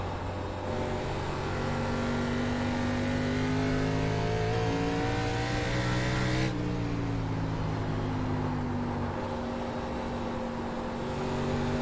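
Steady drone of an ARCA race car engine in a racing video game, holding a sustained high pitch that shifts gear partway through and keeps running loud and continuous for the whole stretch.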